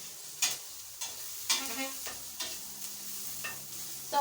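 Onions frying in a pan for meatballs, a soft close sizzle broken by regular spoon strokes scraping through them, about one stir every half second.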